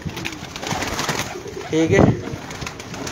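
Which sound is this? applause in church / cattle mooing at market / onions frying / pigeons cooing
pigeons cooing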